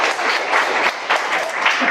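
An audience at a short economics lecture in Korea gives a round of applause, dense and even clapping from many hands throughout, with no speech.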